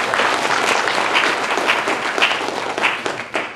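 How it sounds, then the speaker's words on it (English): A seated audience applauds for three colleagues at an academic program, a dense wash of clapping that holds steady and then begins to thin toward the end, with no talking over it. "give Rico Chapman, Keith McMillan, and Latasha Garrett a round of applause"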